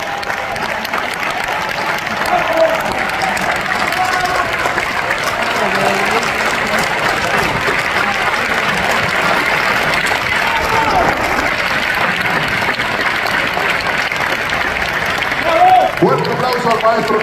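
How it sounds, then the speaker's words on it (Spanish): A concert hall audience gives sustained, even applause for the 85-year-old conductor José Ramón Urbay after a concert, a thick wall of clapping with faint cheering and voices talking under it. "Fuerte aplauso al maestro José Ramón Urbay también"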